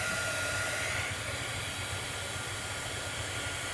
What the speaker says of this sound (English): Can you guys hear us over this crazy dryer?